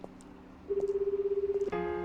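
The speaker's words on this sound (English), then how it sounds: "I pulled out my phone and called Ray." A phone in the visual novel game Slow Damage dials with a couple of quick tones, then a steady pulsing ring tone sounds for about a second before a brighter tone cuts in, clear and close with no talking.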